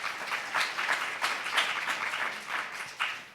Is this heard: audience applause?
yes